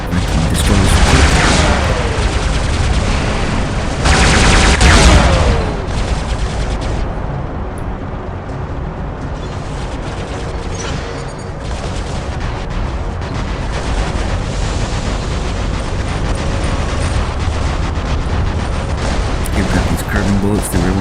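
Gunfire and explosive blasts from robot weapons in the mech combat video game War Robots, a dense, loud, continuous barrage of shots and booms with heavier bursts early on, with a voice talking over it.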